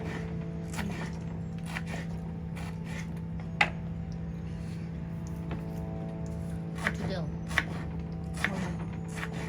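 Green chilies are sliced thinly with a knife, giving a handful of sharp, scattered chops over a steady low hum, close and fairly quiet.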